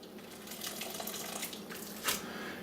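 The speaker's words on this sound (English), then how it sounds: "I'm just going to drain them in a colander." Cooked poke leaves and their hot cooking water poured into a colander, a close steady splashing gush with a brief louder surge near the end, no voices.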